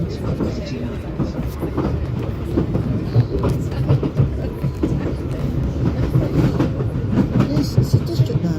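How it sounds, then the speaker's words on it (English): A London Underground District line train runs along the track, a continuous low rumble with rhythmic clickety-clack of wheels over rail joints, close and steady throughout. "This is a district line train to Richmond."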